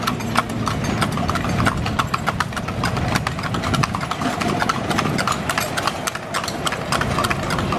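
A horse pulls a carriage ride around Rizal Park in Manila, its hooves clip-clopping in a steady, loud rhythm on pavement for several seconds, with a faint engine hum in the background.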